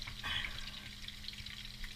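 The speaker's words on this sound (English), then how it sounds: "Just frying our sausage." Sausage sizzling in a frying pan at a breakfast cookout, a steady faint crackle with a brief stirring scrape near the start and no voices.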